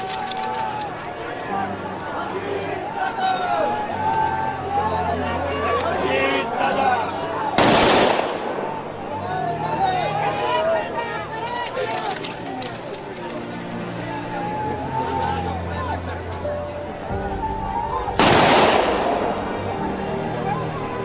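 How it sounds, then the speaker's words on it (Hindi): Rifles fire a ceremonial gun salute at the state funeral of Ajit Pawar, with a police band also taking part. Two sharp, loud volleys ring out about ten seconds apart over continuous narration and crowd noise. "पुलिस बैंड की सलामी, तीन राउंड गन सैल्यूट,"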